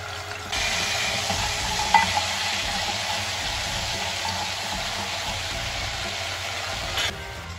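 Okra frying in a pan with ginger-garlic paste, stirred steadily; a continuous close sizzle and hiss with soft scraping of the stirring utensil and a brief clink near two seconds, no talking.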